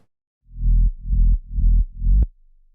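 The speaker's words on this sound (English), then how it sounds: "very light, and very like thumpy sub bass we have." Four deep, boomy sub-bass thumps from a progressive house track pulse in a steady rhythm, loud and isolated, the last one cut short.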